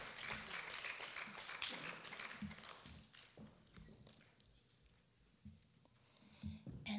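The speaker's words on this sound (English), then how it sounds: "Give them applause" Applause from children and adults at an elementary school chapel award ceremony, a busy patter of claps that thins out midway and then picks up briefly near the end.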